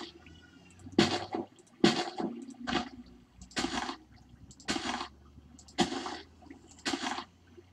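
Flowing water in the Minecraft video game sounds as a series of about nine separate watery gushing bursts, each rising and fading, spaced roughly a second apart at moderate loudness with no talking.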